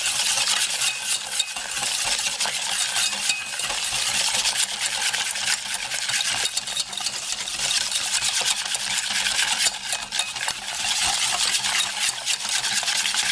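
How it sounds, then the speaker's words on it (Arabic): Continuous close scraping and swishing as chocolate flan mixture is stirred in a pot, a steady loud texture with no pauses and no talking. "كنخليوه حتى كيبرد لينا شويه وحنا كنحركوا فيه باش ما كيكوليناش دوك القشره الفوقانيه"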